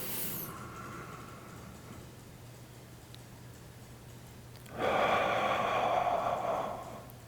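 Slow deep breaths taken while holding a shoulder mobility stretch with elbows drawn back, a quiet steady exhale near the start and a louder, longer breath rising from the middle and fading out, with no talk.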